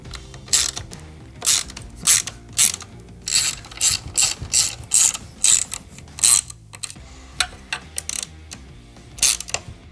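Ratchet wrench clicking in repeated bursts while tightening bolts on a Sunrider soft top for a Ford Bronco hardtop, close and loud with short pauses between strokes.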